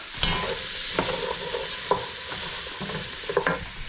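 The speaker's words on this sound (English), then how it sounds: "Then we're gonna throw in all of our non-potato vegetables. Let them get to know that fat." Chopped non-potato vegetables for potato soup sizzle in hot fat, with a steady crackling hiss broken by several distinct scrapes of a spoon stirring them around the pan.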